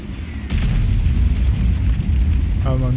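A tank cannon fires in World of Tanks, Tier 6 British medium tank battle: a sharp burst at the start gives way to a dense rumbling boom that sustains loudly, with game tones near the end.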